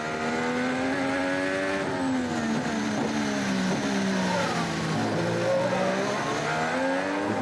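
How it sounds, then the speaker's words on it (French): A 2015 Formula 1 car at the Australian Grand Prix locks a wheel under braking, its engine note sliding down in pitch as it slows, with a faint tyre scrub, loud and continuous with no voices. "Blocage de roue sans conséquence."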